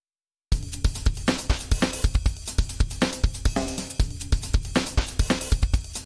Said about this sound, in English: throw in the drum loop.